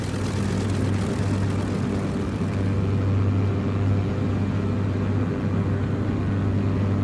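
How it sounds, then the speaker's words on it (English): Loud, continuous roar of Mitchell 407's propeller aircraft engines at takeoff, a dense, even drone with a deep low rumble that holds steady from start to finish. "this is Mitchell 407 requesting clearance for takeoff, heading south to Hamilton Field"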